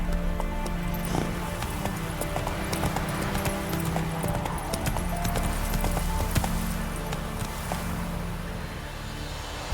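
Horse hooves clop in a quick, steady galloping rhythm in The Witcher 3, close and clear for the full stretch, with a low background rumble and no speech.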